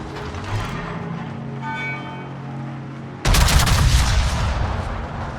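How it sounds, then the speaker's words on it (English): Naval guns in a warship video game erupt in a sudden loud, sustained barrage after a quieter stretch of low mechanical hum. "All stations, concentrate fire on the target."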